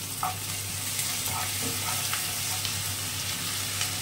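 Onion, garlic and ginger paste frying with lightly fried onion in a home kitchen pan, giving a steady close sizzle with a few soft stirring scrapes and no talking.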